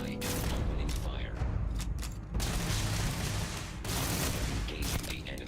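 Starfield gunfire crackles in bursts, sharp shots and bangs separated by brief lulls, with someone talking over the combat.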